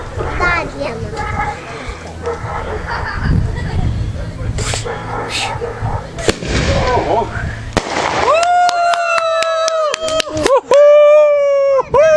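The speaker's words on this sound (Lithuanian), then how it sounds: "Ar patiko fejerverkas?" Fireworks crackle and bang outdoors at a birthday celebration, a dense run of pops and sharp reports, then a few isolated loud bursts, with children and adults talking and shouting nearby.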